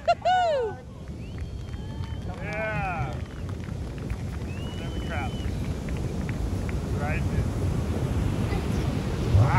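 Big ocean surf at Pipeline on Oshu's North Shore heard as a broad wind-blown roar of waves building over the stretch, with voices over it at the start.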